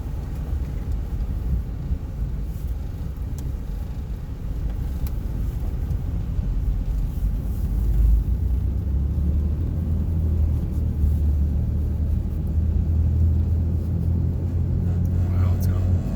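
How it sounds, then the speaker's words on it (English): A lifted Subaru rolling on RZR off-road tires gives a steady low roar and hum of tire noise from inside the cabin, swelling louder partway through, with quiet talk over it. "Wow, it's got a lot of tire noise."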